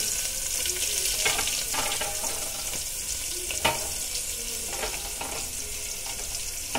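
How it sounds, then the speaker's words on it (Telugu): Onions and garlic with urad dal and asafoetida sizzle and crackle steadily in hot oil for a tempering for chana dal charu, while an occasional stir scrapes the pan, close and continuous with no talking. "వెల్లుల్లి కూడా వేసేసుకున్నాము. ఇది దోరగా ఎర్రగా వేగాలి"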